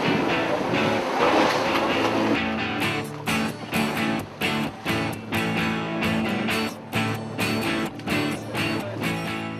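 Thundercat rigid inflatable catamarans, 4.1 metres long, racing through surf off the Gold Coast in Queensland: roaring outboard engines mixed with crashing waves and wind, with repeated sharp slaps as the hulls hit the water.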